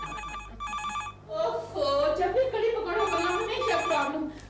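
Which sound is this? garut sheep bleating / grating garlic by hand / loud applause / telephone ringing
telephone ringing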